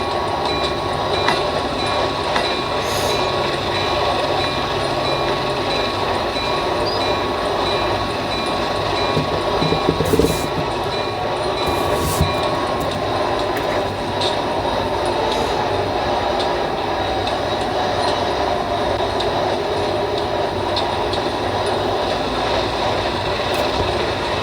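A train rolls along the rails during a KA Sriwedari service run between Tanjung Priok and Jatinegara, its steady rumble continuous and fairly loud throughout, with occasional clanks and a faint wheel squeal.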